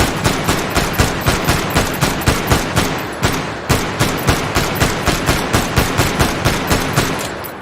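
A firearm in Guns 2: Reloaded emptying a full magazine: a long string of loud, close, evenly spaced sharp shots with a brief pause near the middle, then steady fire until the end, with no talking.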